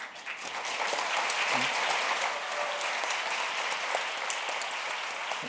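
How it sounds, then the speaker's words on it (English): Continuous, full-room applause from a design forum audience for two speakers, steady and fairly loud throughout. "Please give them a big round of applause for the two men."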